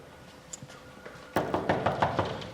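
Knuckles rap on a closed door, first a few faint scattered taps, then a firm run of about six loud, evenly spaced knocks close by, with no speech.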